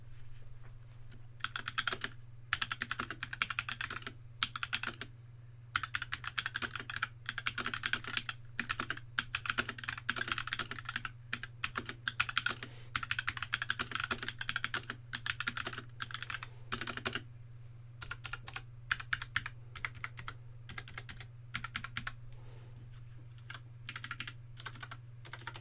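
Rapid typing on a HyperX Alloy Origins Aqua keyboard with tactile mechanical switches, a close, dense stream of clicky keystrokes in bursts with brief pauses, over a steady low electrical hum.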